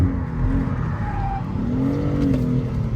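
A BMW M3 on a drift day accelerating hard while drifting, a loud, steady engine roar heard from inside the car with a faint rising tire squeal, and no talk.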